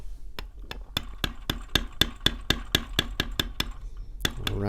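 Metal beveling tool struck on a leather belt while tooling the edge of a vine design: a steady series of about fifteen sharp, evenly spaced taps, close and crisp, alone without talk.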